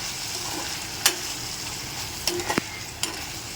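Okra and chilies fry in a pan with a quiet, steady sizzle, broken by a few sharp clinks and scrapes of stirring, close by and with no talk.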